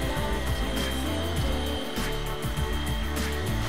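A small RC helicopter flies with a single rotor blade and no tail rotor, giving a close, steady, buzzing whir with a fluttering pulse throughout.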